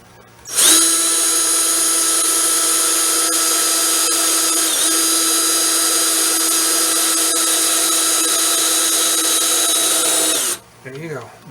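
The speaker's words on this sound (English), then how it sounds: "I'm going to go really slow here with the drill" A power drill bores slowly through plexiglass for a model railroad classification yard, with a sharp, steady high whine that starts abruptly, holds for about ten seconds and then cuts off, followed by a brief rustle.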